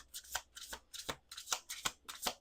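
A deck of cards is shuffled in about six quick, even bursts of riffling, crisp and close with no talking.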